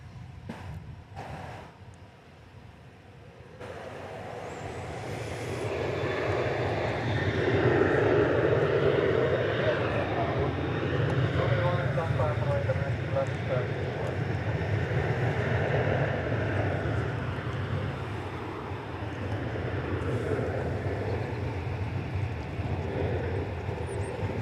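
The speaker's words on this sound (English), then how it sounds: "It's American Flight 2193 arriving from Tucson, Arizona, an Airbus A321." American Airlines Airbus A321 jet arriving at DFW Airport, a broad roaring engine rumble that swells over several seconds and holds loud before easing slightly as the aircraft passes.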